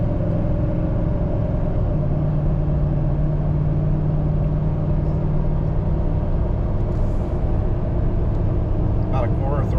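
A 2024 Duramax Denali diesel truck on 37-inch tires accelerating gently at about quarter throttle while towing a 43-foot toy hauler RV: a steady, low in-cab drone and rumble with road noise throughout, and no clear surge.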